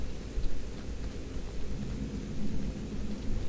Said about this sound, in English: I love that it's rain.